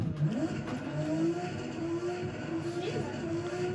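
A Nissan S14 drift car at practice, engine revving up and down with tire squeal, loud and close, rising and falling pitch through the run, with some voices mixed in.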